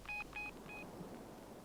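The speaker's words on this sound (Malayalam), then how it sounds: "ഞാനൊന്ന് ഫോൺ ചെയ്യട്ടെ" Three short telephone keypad tones sound in quick succession, then quiet room hiss. The dialing is faint and clear, with no voices.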